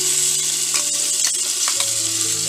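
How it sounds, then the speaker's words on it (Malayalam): Homemade tomato paste poured into a hot cooking pot for Eid-style tomato rice: a steady, loud sizzle and frying hiss with faint stirring clinks throughout. "അപ്പോൾ നമുക്ക് നേരത്തെ തയ്യാറാക്കി വെച്ച പേസ്റ്റ് ഒഴിച്ചു കൊടുക്കാം."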